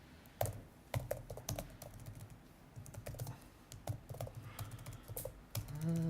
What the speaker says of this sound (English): I can't type.